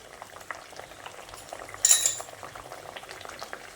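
Potatoes and drumstick stems simmer in a covered pot for a light Bengali vegetarian curry, a soft steady bubbling with faint clinks, swelling into a brief louder hiss midway before settling back.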